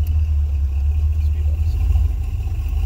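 An early Ford Bronco engine rumbling low and steady while four-wheel driving in Washington, a close, continuous deep drone with a slightly uneven throb and no talking.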